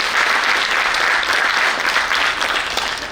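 A crowd at an annual day function breaks into loud, continuous clapping, a short burst of applause lasting about three seconds.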